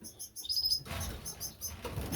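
Canaries, a mix of Irish fancy and variegated birds, flutter their wings in an aviary holding sixteen birds. Soft repeated flapping bursts sound close by, mixed with bright chirps and tweets, and no one speaks.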